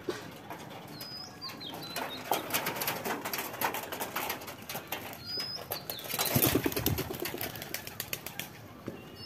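Pigeons at a Bangladeshi home coo softly and flap their wings in bursts against a noisy outdoor background, with a stronger flurry of wingbeats near the end.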